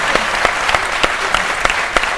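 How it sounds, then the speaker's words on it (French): Studio guests on a midday television talk show clap in a short, fairly loud burst, individual hand claps distinct and irregular, spread across a small group rather than a large crowd. "Ça s'applaudit"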